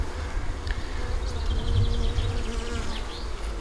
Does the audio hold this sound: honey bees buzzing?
yes